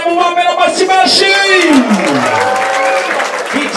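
Audience applause at a gathering in Rwanda, a dense steady clatter of clapping lasting throughout, with a voice calling out over it.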